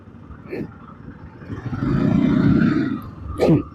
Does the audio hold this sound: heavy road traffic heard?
yes